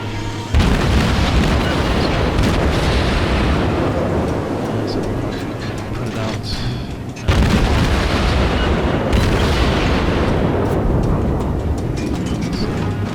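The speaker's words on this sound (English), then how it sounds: "Just firing away." Naval guns of the Tier IV American cruiser Phoenix firing in World of Warships: a dense, loud stream of booming salvos and rumbling explosions, dipping briefly before a sharp new burst midway, with no speech.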